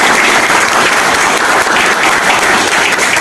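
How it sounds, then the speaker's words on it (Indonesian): Seminar attendees at a public speaking session for millennials clap their hands together in a loud, dense, continuous burst of applause lasting a few seconds. "Tepuk tangan dulu ya."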